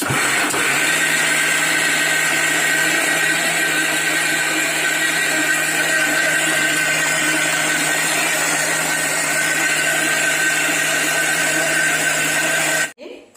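A mixer grinder whirs steadily while churning suji cake batter, a loud, constant motor drone that runs unbroken for about thirteen seconds before cutting off abruptly.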